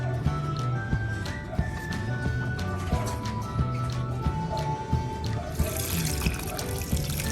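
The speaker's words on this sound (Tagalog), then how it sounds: "didiligan po natin siya ng tubig" Water poured from a container onto a newly planted labog seedling, a steady trickle and splash with small irregular drips and taps, close by, growing brighter and hissier toward the end.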